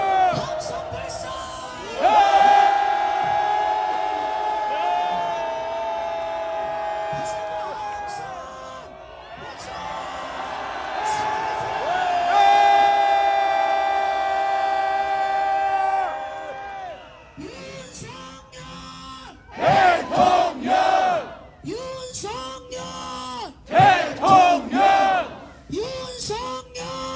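A large crowd at a street rally lets out long, sustained roaring shouts in two big waves, then breaks into rhythmic chanting bursts, loud and dense with many voices together.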